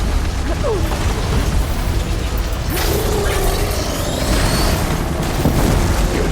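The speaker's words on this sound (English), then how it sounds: "Detonated!" A detonation in Horizon Forbidden West's Burning Shores DLC: a loud, rumbling blast with crashing mechanical debris over steady game noise, swelling midway and trailing off.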